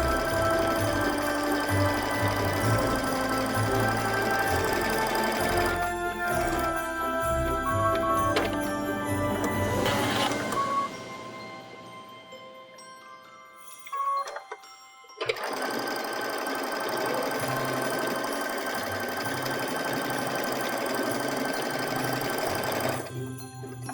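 A sewing machine stitches rows on a patchwork stocking, humming close and steady, going quiet for several seconds midway before starting up again and running continuously to the end.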